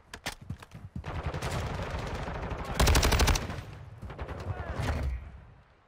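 Automatic rifle fire in the shooter game Modern Warfare 2, STB 556, in rapid bursts, loudest as one sustained volley in the middle, with clattering mechanisms and game effects around it.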